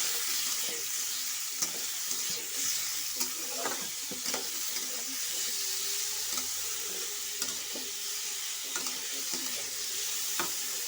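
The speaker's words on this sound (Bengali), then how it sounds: "এবার আমি কুচু করে কাটা আমগুলো দিয়ে দেব দিয়ে একটু নাড়াচাড়া করে দেব" Chopped mango stirred in a hot pan for a Bengali jelly pickle, with a steady soft sizzle under repeated scraping strokes of a spoon against the pan, close and fairly loud, no voices.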